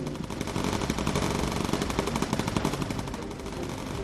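Machine guns firing incendiary ammo in the video game Bomber Crew, a dense, continuous rattle of rapid shots at a steady loud level without any pause.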